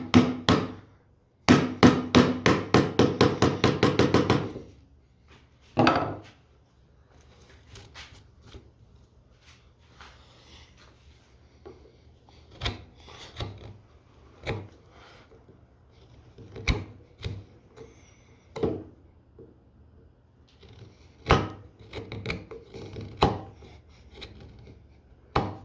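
Chisel working wood while carving a whittle knife: a fast rapid burst of sharp taps early on, then scattered single knocks and scraping strikes spread out at close range, with no talking.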